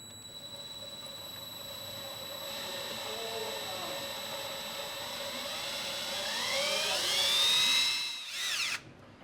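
A power drill bit grinds into a broken screw trapped inside inexpensive tubing. The drill whirs steadily at low speed, then rises into a squealing, straining whine before it stops abruptly.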